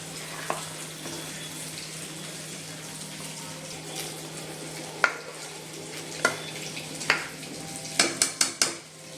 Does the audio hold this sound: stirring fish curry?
yes